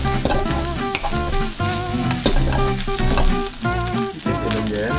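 Egg fried rice sizzles in a wok as soy sauce goes in, giving a continuous, fairly loud frying hiss under background music, with no voices.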